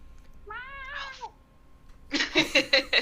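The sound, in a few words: cat meowing in the background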